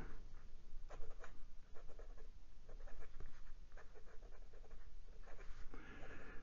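Wing Sung 601 Flighter fountain pen with a mini Fude steel nib scratches across Clairefontaine 90 GSM paper, close, soft repeated strokes in short bursts over a low steady background.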